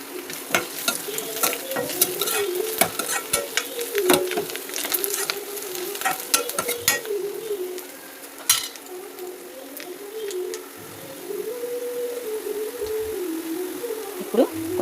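Chicken and golden-fried onions sizzle steadily in a pan, with repeated scraping stir strokes and clinks of a spoon against the metal throughout, close and fairly loud, no voices.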